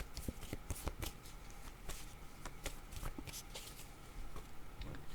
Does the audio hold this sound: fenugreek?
no